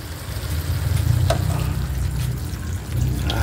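Chicken adobo sizzles in a pan just after water is poured in, a steady, loud bubbling hiss with a few stirring clinks close by.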